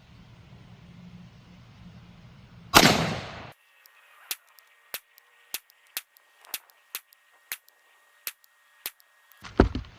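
Rifle shots from an AAC 7.62x39 firing Tula ammunition at 100 yards: one loud sharp crack followed by a string of about ten evenly spaced distant impacts or shots, each brief and snappy, with another blast at the end.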